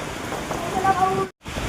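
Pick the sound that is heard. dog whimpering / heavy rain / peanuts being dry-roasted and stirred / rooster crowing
heavy rain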